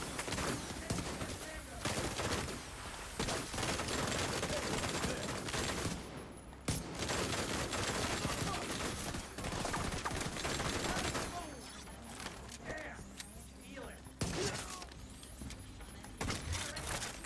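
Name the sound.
rifle gunfire in video game The Division 2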